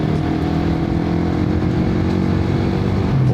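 A motorcycle shifts up through its gears without using the clutch, its engine running loud and steady from start to finish with no voices over it.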